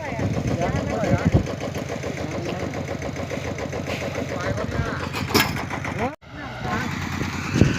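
A small walk-behind tractor engine pulling a rice seeder chugs steadily and loudly throughout, with a rhythmic knocking beat and a brief dip near the end.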